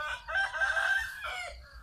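A young Pa Koi fighting rooster crows once in a long, strained call lasting over a second, loud and close against a low, steady background rumble.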